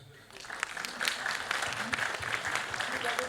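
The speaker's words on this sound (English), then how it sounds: "Another applause." Applause from the audience at a quiz finals event, steady dense clapping that swells after a quiet start and holds at moderate level throughout, with a voice briefly audible underneath.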